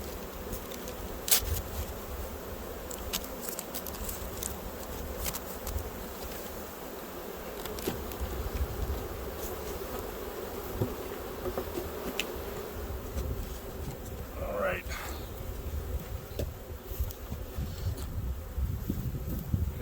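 Honey bees buzz at an open hive during a late February inspection, a steady, close swarm hum with individual bees passing near, and a few light knocks and rustles.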